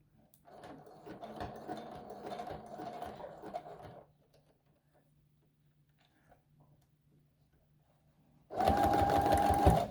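Sewing machine stitching a fabric face mask in two bursts, a longer rattling run followed by a quiet pause and then a loud, fast close whir.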